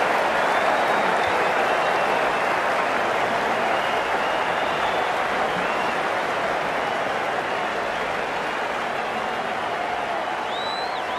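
Cricket crowd at an India versus Australia match applauding a boundary four, a dense, sustained wash of clapping and cheering that stays loud and even throughout, with faint whistles riding on top.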